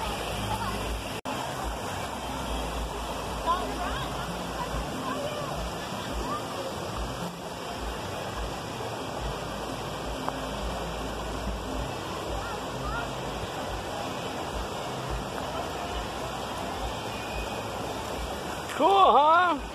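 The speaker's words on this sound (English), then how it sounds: "we got the Guadalupe River, which is run right behind there" Guadalupe River runs behind a campsite, a steady, broadband rush of flowing water that continues evenly throughout, with a brief louder burst near the end.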